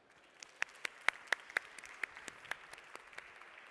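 Sparse, scattered claps from a small conference audience welcoming a speaker, a dozen or so distinct hand claps spaced irregularly over a few seconds, fairly quiet and distant.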